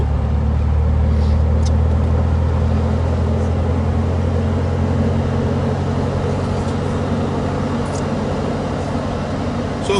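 A car cruises along on a drive, its interior filled with a steady low engine and road drone and a constant hum, unbroken for the whole stretch, with no voices over it.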